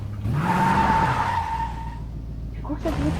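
A car in the video game Fortnite driving and skidding, a loud smooth engine whine with a sliding tire squeal that fades out, then a brief burst of another vehicle sound at the end.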